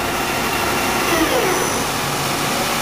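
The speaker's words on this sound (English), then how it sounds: "spindle headstock sounds just great" A Dainichi MG75 CNC turning machine's spindle headstock runs at steady speed, giving a continuous broadband mechanical whir with a faint tonal hum, loud and unbroken throughout with no talk.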